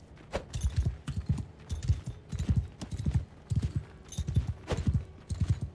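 Horse hooves clip-clop in a quick, steady galloping rhythm while riding in the video game Mount & Blade II, close and distinct, with faint background ambience and no talk.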